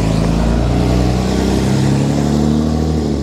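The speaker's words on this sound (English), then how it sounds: "I'll wait for this car to go by." A car passes close by outdoors, its engine droning loud and steady with rising and falling tones as it goes past, heard alone without talk.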